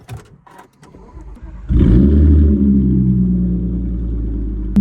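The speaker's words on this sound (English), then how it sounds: "let's get a cold start on the car." A supercharged Audi S5 with loud exhaust starts warm: a short crank, then the engine catches with a deep burst and settles into a loud, steady rumbling idle, close by.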